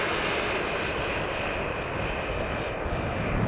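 An airliner landing on runway 18R at Amsterdam Schiphol Airport gives a loud, steady engine roar that holds throughout with no pauses.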